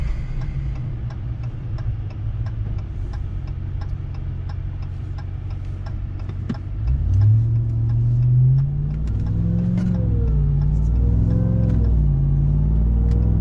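A Ram TRX pickup truck with a GTHAUS exhaust idles with a steady ticking rumble, then revs up to about 2,500 RPM, its pitch rising and falling through a few throttle blips, loud and close.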